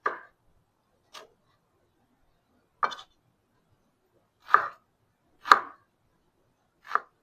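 Knife chopping through an onion on a cutting board in a cooking class, six sharp separate knocks spaced irregularly apart, close and crisp against silence.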